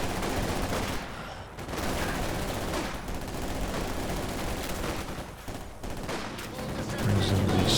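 Strafing run in Company of Heroes 2, a dense, continuous roar of rapid gunfire and explosions that pauses briefly before resuming, loud and close, with a commentator's voice faint underneath.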